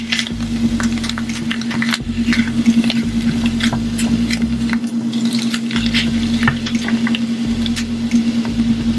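Eggs being scrambled in a pan with sausage and spinach, a steady close sizzle and frying crackle throughout, with soft stirring scrapes and a constant low hum underneath.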